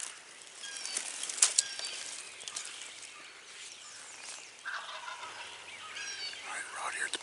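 A wild turkey tom perched in a tree on a Wisconsin farm gobbles in a few rattling bursts, fairly distant, with wing flaps and other outdoor sounds in between.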